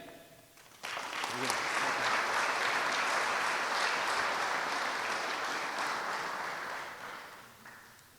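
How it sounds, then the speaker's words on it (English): An audience at a veterans Hall of Fame induction ceremony bursts into sustained applause that starts abruptly, holds loud and steady for several seconds, then tapers off near the end. "then applaud the Hall of Fame recognition that they have earned"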